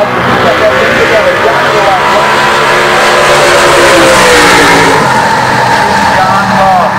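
A 1968 Chevrolet Chevelle drag car at a drag strip start line, its engine revving loud and close in a steady drone with rising and falling pitch, under a track announcer's talk.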